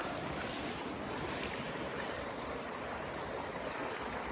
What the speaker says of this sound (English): look at this part of the waterfall